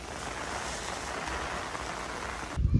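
Steady rain pours outdoors during village tree planting, a dense, even hiss filling the scene before cutting off abruptly near the end into a low rumble.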